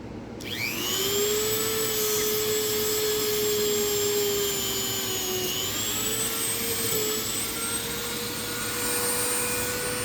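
A buffing wheel spinning against a tobacco pipe gives a loud, steady whine that rises in pitch as it spins up, then runs continuously and up close with slight wavering tone shifts.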